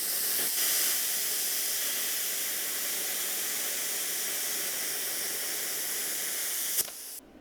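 A Bestarc BTC500DP 50A plasma cutter slices through 3/8 inch metal with a loud, steady hissing roar that runs for several seconds and then cuts off abruptly.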